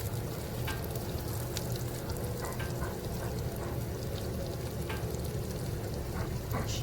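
Potatoes stirred on a hot Pampered Chef Rockcrok grill stone over a grill on high, giving a steady close sizzle and frying hiss with scattered scraping and clicking from the stirring, no voices.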